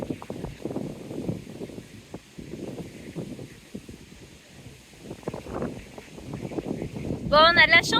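Gusty wind buffets a converted camper van fitted with a small wind turbine, a steady rushing and rumbling that rises and falls, with a brief high whine near the end.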